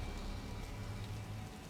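Steady, dense rain hiss from a game's jungle canopy scene during a storm in Tomb Raider Definitive Edition, an even wash of patter with no breaks or thunder, alone and moderately quiet.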